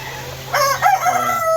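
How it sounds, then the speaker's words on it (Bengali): A rooster crows once, loud and close, inside a shed shut with turkeys and silkie chickens, with a faint steady hum underneath. "দেখতে পাচ্ছেন আমার টার্কি মুরগিগুলো কি অবস্থা আছে আর বন্দি আছে শেডের ভিতরে"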